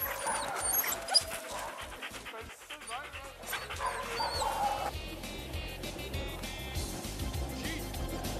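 Sled dogs at a dog sledding kennel in Quebec with more than 50 dogs bark and whine in scattered bursts, fairly faint and distant, amid outdoor ambience.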